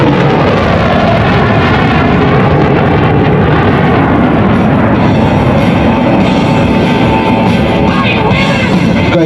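Eurofighter Typhoon fighter jet at an air show flying display, pulling hard through rolls and breakaways: a loud, continuous roaring jet rumble that holds steady throughout, without any voices.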